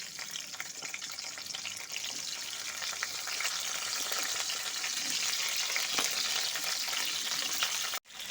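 Cauliflower pieces fry in oil in a pan, a steady, close sizzling hiss that builds slightly and runs continuously before a brief cut near the end.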